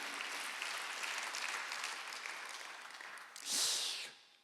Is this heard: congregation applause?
yes